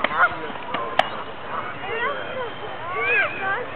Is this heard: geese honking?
yes